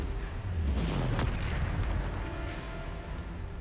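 A Bombarda spell blast in the video game Hogwarts Legacy: a heavy booming explosion with a deep rumbling body and a sharp crack near its peak, fading into a low sustained roar.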